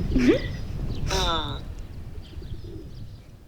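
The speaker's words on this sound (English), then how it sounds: "See the pigeons make that sort of like cooing sound." Pigeons cooing nearby: a soft low coo followed by a short warbling call, then a quieter outdoor background.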